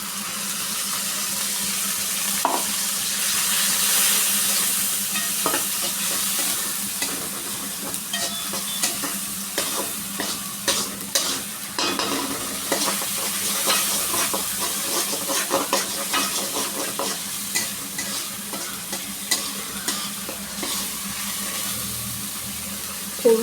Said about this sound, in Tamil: இப்போ வெங்காயம் கொஞ்சம் நல்லா பொன்னிரமாக வதங்கட்டும்